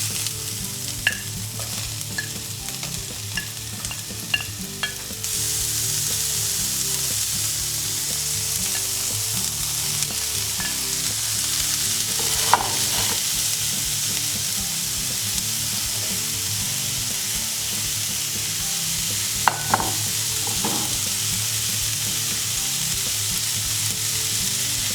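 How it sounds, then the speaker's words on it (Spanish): Onion and other vegetables sizzle steadily in a pan for a vegan tempeh stew, the frying growing louder after a few seconds, with occasional scrapes of stirring. "Una vez que la cebolla vaya cogiendo un poco de color doradito, vamos incorporando el resto de las verduras."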